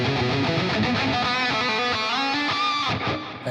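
Sustained lead electric guitar line played through a Neural DSP Nameless X amp plugin, a loud, continuous and sung-out tone with delay tails, heard alone with no talking.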